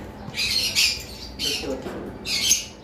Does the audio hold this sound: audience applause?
no